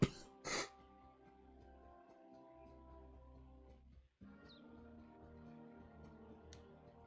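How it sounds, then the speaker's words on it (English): A single sharp cough bursts out near the start, followed by a long, quiet stretch with a soft, steady tonal hum. "I can't shake this cough"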